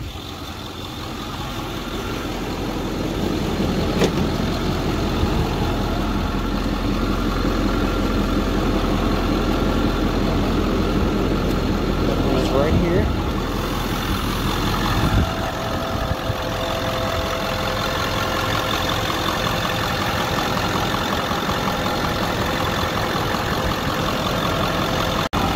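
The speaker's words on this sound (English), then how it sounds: "Overall, it's a pretty quiet truck for a diesel." A 2010 Ford F350 Super Duty with the 6.4 Powerstroke diesel V8 idles steadily and fairly quietly, a constant low rumble that holds for the whole stretch with no talking.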